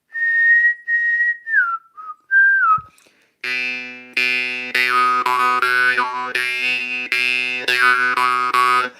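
A whistled melody of short gliding notes, followed by a twangy, buzzing jaw harp (morchang) playing rhythmic phrases with sliding pitch bends that imitate whistling, close and clear.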